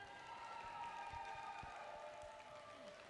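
Crowd applause with scattered cheering for the winning team in black, Wiltshire, at a team quiz or games event, a steady wash of clapping throughout at moderate distance with no voices over it.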